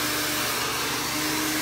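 A hair dryer blows steadily onto a hairbrush, a loud, close, continuous broadband whoosh with a faint tonal hum, no voices.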